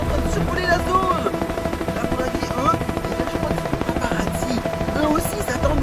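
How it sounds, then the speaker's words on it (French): Steady low rotor thumping and engine drone of helicopters overhead, loud and continuous, with faint voices mixed underneath. "il y a des hélicoptères qui sont en train de survoler la zone"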